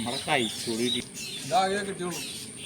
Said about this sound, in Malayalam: തള്ളക്കിളിയൊക്കെ വന്ന് ഒച്ച എടുക്കുന്നുണ്ട്